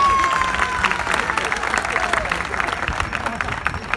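A concert audience at a brass music week in Swakopmund applauds local hotel sponsors, dense steady clapping filling the hall with a few cheers, while a voice carries on over it.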